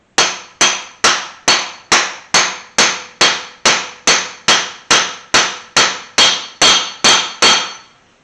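A hammer taps a part onto a motor to seat it, landing about seventeen sharp, evenly spaced metallic strikes close by, each ringing briefly before the next, with no speech.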